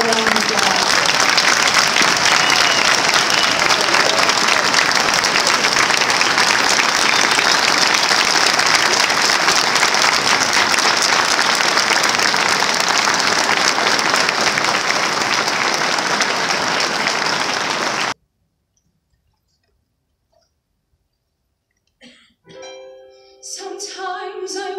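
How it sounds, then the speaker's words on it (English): Loud, sustained audience applause fills the room at a seniors awards ceremony honoring top students, steady for about eighteen seconds before cutting to near silence, with faint other sounds returning at the end. "I think we owe these students another round of applause"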